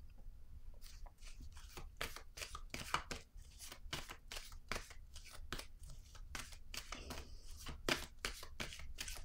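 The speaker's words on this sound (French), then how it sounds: "Je vais déposer une carte ici." Tarot cards are laid down one after another on a table, making a long run of soft, close slaps and shuffling snaps at an uneven, fairly quick pace, faint and with no talking.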